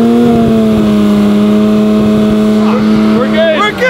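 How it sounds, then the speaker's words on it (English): A Porsche GT3 with a new exhaust is revved hard against its rev limiter, giving a loud, close, steady high-pitched drone that wavers and falls away near the end, with excited voices over it. "We're now going to measure how loud the exhaust actually is."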